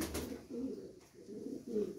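Sakhi pigeons coo in a home loft, a few low throaty rolling calls repeating close by at a moderate level, with no talking over them.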